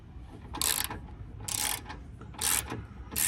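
Ratchet wrench tightening the battery hold-down on a 2011 Toyota RAV4, four loud bursts of rapid metallic clicking separated by short pauses, close up with no talking.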